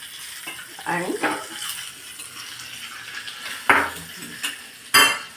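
Poppy seed powder being sautéed in a pan, with a spoon scraping and clinking against the metal in a few sharp strokes over a faint sizzle; a brief spoken word is heard.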